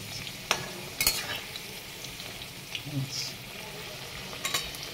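A vegetarian egg fries in oil over a high flame, giving a steady close sizzle with occasional stirring clinks and scrapes.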